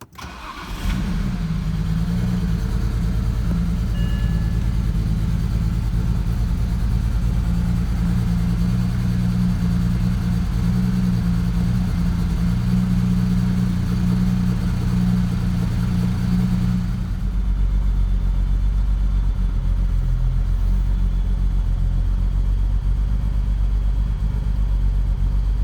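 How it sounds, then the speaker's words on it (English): A BMW 335i with an unresolved fault cranks and fires, then runs at a steady, loud, close idle with a deep rumble, with a slight shift in tone partway through and no talk. "So yeah, let's start the car."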